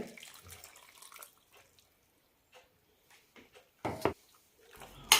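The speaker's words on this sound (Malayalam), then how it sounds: "അരക്കപ്പോളം വെള്ളം ഒഴിക്കുന്നുണ്ട്" Water is poured in short splashing bursts into chicken curry with ground masala in a pressure cooker, faint and intermittent with quiet gaps between pours.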